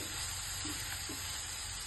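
Coriander bhaji sizzling in hot tempering while being stirred, a soft continuous frying hiss with faint scrape-like stirring touches, no voices.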